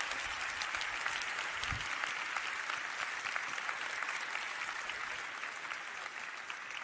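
Conference audience applauding the team, a steady dense clapping that holds at even loudness for several seconds and fades slightly at the end, with no speech.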